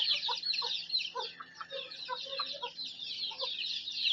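Free-range desi village chickens cluck in short repeated calls over a steady background of small birds chirping and twittering, with no talk.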